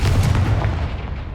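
Confringo fire spell blast cast in the Hogwarts Legacy video game: a loud, booming burst with a deep rumbling low end that fills the whole moment, with no voices.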